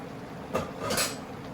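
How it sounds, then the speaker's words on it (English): A spoon stirring chicken adobo in a cooking pot gives two brief metallic clinks and scrapes, fairly quiet over a steady background hiss. "I think it's time to, yeah, stir this thing up."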